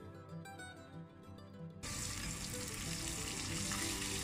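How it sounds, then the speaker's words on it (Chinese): Cutlassfish pieces sizzling in hot oil in a pan, a quieter stretch at first, then the frying surges into a loud, dense crackle once a lid goes on, continuing steadily. "盖上锅盖，防止油溅到外面。"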